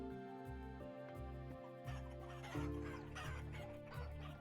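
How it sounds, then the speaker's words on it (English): Several chickens cluck repeatedly in the sandbox survival game Vintage Story, a busy overlapping flock heard up close over steady background music. "Chicken army! Too many chickens."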